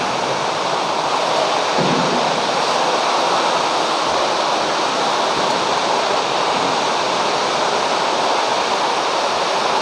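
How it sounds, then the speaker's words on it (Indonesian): Heavy rain pours in a steady, dense roar that holds at one level throughout, with no voices over it. "tambah kenceng hujannya ini."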